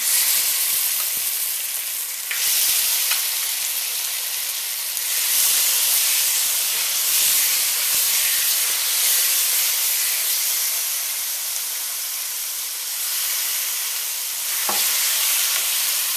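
Turkey wings stewing Caribbean-style in a hot pot give off a loud, continuous steamy hiss and sizzle close up, with occasional stirring scrapes and small bursts, and no voices.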